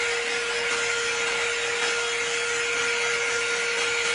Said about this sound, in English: Now she finna dog me with this blow dryer again.